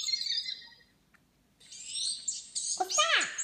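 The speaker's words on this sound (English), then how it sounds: "What's that? American robin." An American robin calling in Florida, clear bright whistled and chirping notes, fairly close, with a brief pause mid-way and a person speaking faintly at times.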